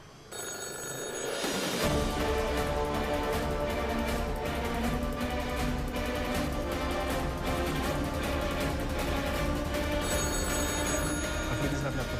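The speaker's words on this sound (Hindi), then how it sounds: "अफरीदी साहब ने आपको फोन" An office telephone rings steadily and loudly with a continuous bell, lasting several seconds, with voices faintly underneath.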